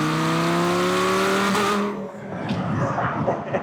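A Lamborghini Gallardo Concept S one-off prototype cruising in Miami, its engine note loud and tonal before cutting off abruptly, followed by rougher road and wind noise with brief tire sounds.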